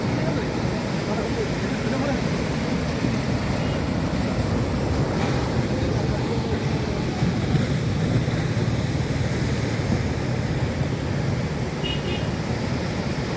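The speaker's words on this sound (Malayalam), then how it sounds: "കടലിൻ്റെ രൗദ്രഭാവം അത് ഇതുപോലെ ഇതന്നെയാണ് കാണുന്നത്." Rough sea surges against the shore at Anjangadi bend in Chavakkad during a sea attack, a continuous loud roar of surf with heavy wind noise, while someone speaks over it.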